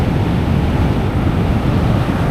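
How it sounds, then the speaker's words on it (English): Strong seaside wind buffets the microphone, a constant low rumbling roar that stays loud and close throughout with no voices. "Very windy."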